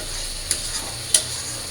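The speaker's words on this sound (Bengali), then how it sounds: "এই যে আমার সিম আলুটা সুন্দর করে কষায় নিচ্ছে" Flat beans and potatoes sautéing in a pan give a soft, steady sizzle, broken by two sharp clicks of a spoon or spatula against the pan. No one speaks.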